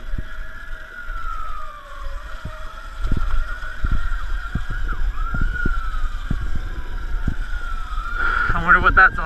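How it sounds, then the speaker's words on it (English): A wailing siren sweeps up and down continuously over traffic noise, fairly close, with scattered thumps and a second warbling tone near the end. "I hear sirens."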